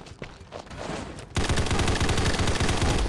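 Rapid automatic gunfire in the battle royale video game Combat Masters, a sustained loud burst of shots after a brief stretch of quieter movement sounds.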